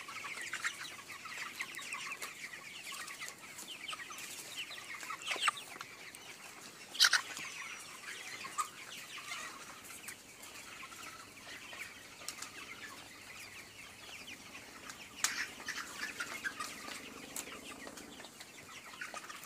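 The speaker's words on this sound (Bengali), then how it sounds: "কিছু মুরগি দেখা যাচ্ছে খাচ্ছে" Chickens cluck faintly on a modern poultry farm on a cold winter morning before sunrise. Scattered soft clucks come with a few bursts of wing flapping over quiet background noise.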